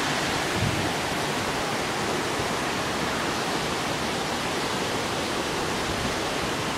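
A waterfall at Glendale Shoals pours over a ledge, giving a loud, unbroken rushing roar that fills the whole stretch without any voices.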